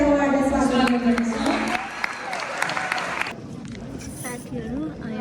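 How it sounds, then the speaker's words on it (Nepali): An audience at a Christmas celebration claps to welcome the performers of a skit, with dense applause rising under a voice at the start and then continuing on its own, thinning toward the end amid crowd murmur. "सबैजनाले ताली बजाएर उहाँहरूलाई स्वागत गर्नुहुन्छ।"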